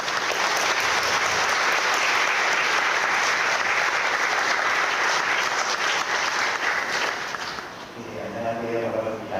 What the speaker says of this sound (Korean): 우리 강사님 나오실 때 뜨거운 박수로 환영하겠습니다.